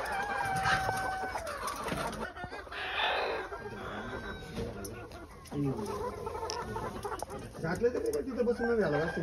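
Free-range desi chickens cluck repeatedly nearby on a poultry farm, with occasional louder calls, while people talk over the birds.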